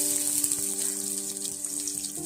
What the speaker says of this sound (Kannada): ಈರುಳ್ಳಿ ಸ್ವಲ್ಪ ಫ್ರೈ ಮಾಡ್ಕೋಬೇಕು